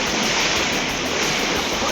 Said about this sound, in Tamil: குற்றாலத்தில் உள்ள அருவிகளில் ஆர்ப்பரித்து கொட்டும் வெள்ளம்.